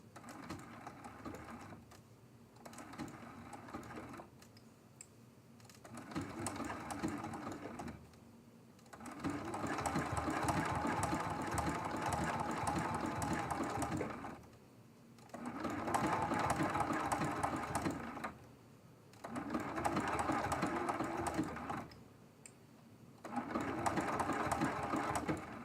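A sewing machine stitches a quilt block for a quilt-as-you-go project, running in steady bursts with brief pauses between them as the block is repositioned, close and continuous.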